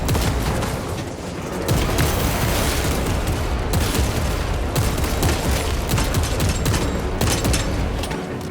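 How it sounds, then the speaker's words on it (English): Frag grenade blast and sustained gunfire in Warhammer 40000 Space Marine 2, a loud, dense barrage of rapid shots and booms continuing without letup. "Frag grenade deployed."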